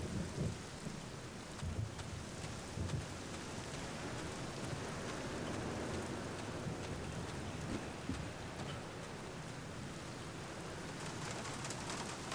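Steady rain with rolling thunder in the video game The Black Mirror, a continuous dense downpour with low rumbles and faint bird calls in the background.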